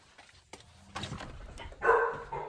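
A puppy gives a few scattered yips and small barks, with a louder, higher whimpering bark near the end, close by and indoors.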